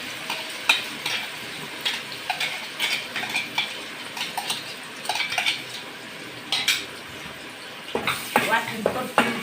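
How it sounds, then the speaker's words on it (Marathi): Ground masala paste with a little mustard seed stir-fried in a pan for a dry drumstick vegetable dish, with repeated clinks and scrapes of a metal spoon over a light sizzle, close by and busier toward the end. "वाटण परतून घेऊया."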